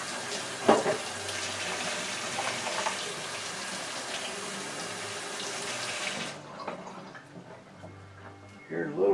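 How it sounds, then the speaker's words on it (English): Running water from a kitchen tap splashes steadily as hands are washed at a sink, loud and continuous for about six seconds before the flow stops, leaving faint clinks and rustles. "Wash my hands here."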